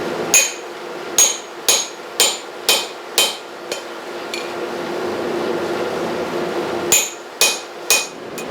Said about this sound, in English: get the hole for the rivet punched